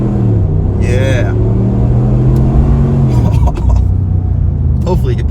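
A 2023 Ram 1500 with a 5.7 Hemi V8 and Flowmaster Super 10 exhaust rumbles and revs from inside the cab, a deep steady engine drone that climbs and falls. A voice cuts in briefly over the engine.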